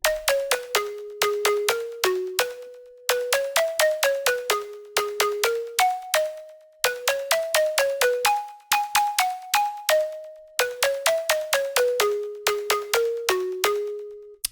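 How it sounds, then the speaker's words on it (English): Bright synth pluck with a small, short reverb plays a repeating melodic phrase of quick staccato notes in four similar bars, clear and upfront with no talking. "Really nice plucky sound."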